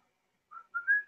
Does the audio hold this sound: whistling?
yes